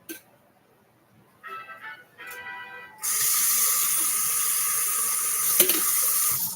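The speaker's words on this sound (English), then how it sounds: "Let me get this water started for." Tap water gushes into a pot for cooking pasta in a home kitchen, a loud steady hissing rush that starts after a few short clinks and runs without pause.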